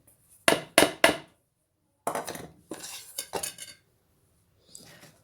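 Cubed potatoes tipped into a chana chaat bowl in a kitchen, producing three quick, close clinks of a utensil against the dish followed by softer scraping and tapping sounds.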